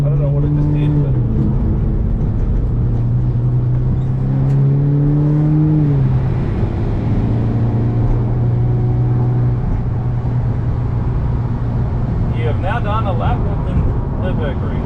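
A Hemi-powered car on a hot lap of the Nürburgring, its engine a loud, close drone that rises and falls in pitch through the Carousel corner, with rushing wind and road noise filling the cabin.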